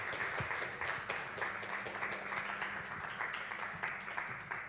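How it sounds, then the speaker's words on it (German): An audience at an award ceremony applauds with dense, sustained clapping from a mid-sized crowd, steady and even throughout, slightly distant in a hall. "Einen großen Applaus bitte."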